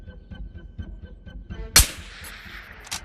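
A single loud, sharp sniper rifle shot cracks out in the VR shooter Ghosts of Tabor, followed by a long ringing decay and a fainter second report near the end, over a low ambient background.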